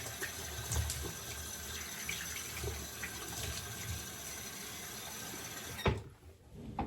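Water from a bathroom tap runs steadily at close range while a razor is rinsed under it, a continuous splashing hiss that cuts off sharply near the end, leaving a brief quieter tail.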